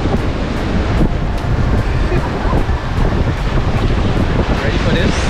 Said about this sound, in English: Bojo Beach